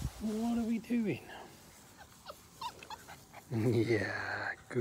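Labrador puppies whimper and yip in short, high whining bursts, close by, with a person speaking softly between them.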